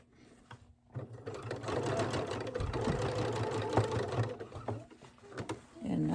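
A sewing machine back-stitching fabric for a grocery sack holder, its motor running in a steady mechanical whir after a short start, then slowing and stopping near the end with a few clicks.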